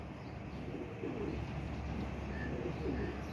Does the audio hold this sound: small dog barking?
no